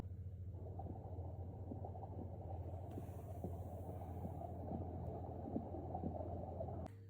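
Steady low whooshing rumble with a soft rhythmic pulse from a baby toy imitating womb sounds, continuous and muffled, like a gentle heartbeat heard through water.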